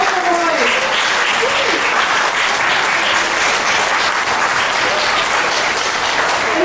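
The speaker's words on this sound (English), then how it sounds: "Everyone, please join me in giving a round of applause for Moksha Roy." Sustained audience applause fills the room at a masterclass on climate action, dense and steady throughout, with a brief trailing voice at the start.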